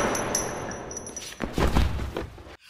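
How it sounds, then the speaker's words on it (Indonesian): A gunshot in the film A Bittersweet Life comes as a brief burst of sharp cracks and a heavy low thud partway through, loud against the movie's soundtrack, then an abrupt cut to silence. "Jack tiba-tiba ditembak oleh seseorang."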